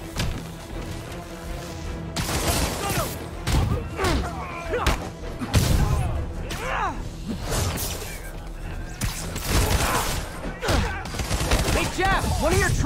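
Gunfire and combat from the PS4 game Spider-Man, with dense bursts of shots, thumps and whooshes running continuously under shouted voices and a music bed.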